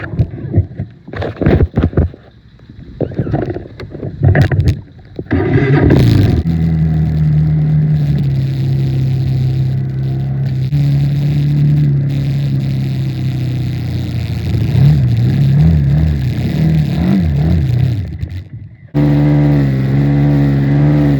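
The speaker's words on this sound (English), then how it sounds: "We're racing 4-wheelers." Mini quad four-wheelers race at a backyard gathering, engines droning and revving steadily close by for most of the stretch, pitch rising and falling, after a few sharp bangs and clatters at the start.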